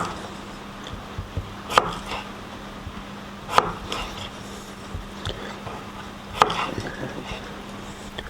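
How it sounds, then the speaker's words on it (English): Knife chopping red potatoes into thin slices on a board, with three sharp, distinct cuts spaced a couple of seconds apart over a low steady background hum. "These spuds, we'll have to cut them pretty thin"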